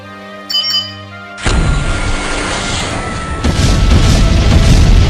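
A film's self-destruct system explosion: after a short electronic tone, a sudden loud blast erupts into sustained roaring rumble that swells again near the end.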